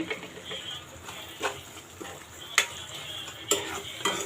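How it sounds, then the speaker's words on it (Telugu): Masala for chicken curry sizzling in oil in a pan, with a steady fry under irregular clinks and scrapes of a spoon stirring against the metal, heard up close with no talking. "చూడండి మనకి మసాలా వేగుతుంది బాగానే"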